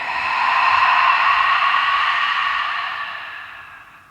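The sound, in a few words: long exhale through the mouth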